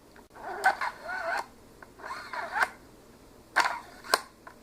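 A Ruger American Ranch Rifle in 5.56 with a rough, machining-marked bolt action, worked back and forth four or five times, each stroke a close, gritty, zipper-like rasp ending in sharp metallic clicks, with no talk over it.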